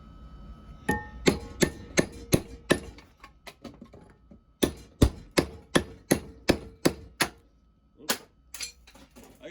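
Hammer blows pound on a metal part of an old Ariens Sno-Thro snowblower, loud sharp metallic strikes in rhythmic bursts of several hits each, separated by short pauses, close by.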